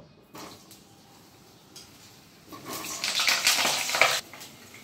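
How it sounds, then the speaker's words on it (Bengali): Whole peeled potatoes, slit for even cooking, fry in a pan: a faint background hiss swells into a loud, bright sizzle for a couple of seconds before dropping back down. "তাহলে প্রথমে আমি আলুগুলো ভেজে নেব।"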